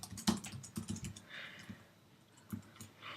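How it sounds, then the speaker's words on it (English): Quick bursts of typing on a computer keyboard, close and fairly quiet, with irregular clusters of key clicks and short pauses, alone without talk. "not typing good today"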